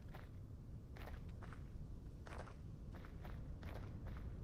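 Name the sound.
footsteps on gravel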